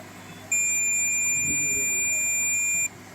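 A multimeter's continuity beep sounds while its probes test the NPC components on an open-condition phone circuit board: a single steady, fairly loud electronic tone lasting about two and a half seconds, with faint room noise before and after.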